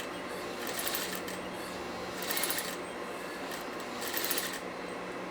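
A sewing machine stitches fabric along a guide, its faint, quick mechanical chatter rising in three short bursts over a quiet background.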